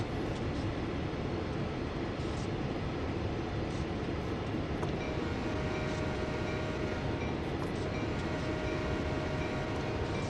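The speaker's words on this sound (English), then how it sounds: "There's another choo-choo." A Canadian National train rolls past in the Train Sim World 2 simulator on the Aldershot to Oakville line, a dense continuous rumble and roar of rail cars heard steadily throughout, loud and close.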